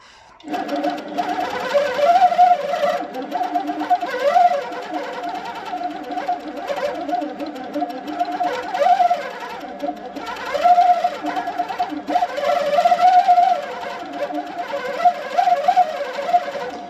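An Insight quilting machine set to stitch-regulated mode at 10 stitches per inch with 17% cruise stitches steadily. Its loud motor whir rises and falls in continuous surges under a rapid mechanical needle rhythm, with no talking.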